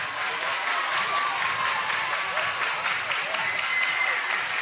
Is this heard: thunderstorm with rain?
no